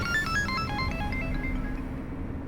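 A phone rings in a French-dubbed TV drama scene, a repeating electronic ringtone melody sounding steadily over a low background hum with no talking.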